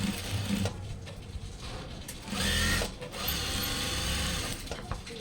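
Sewing machine stitching a doctor's coat, a fast continuous mechanical whir with rapid needle chatter, close up, surging a little louder midway and running steadily without speech.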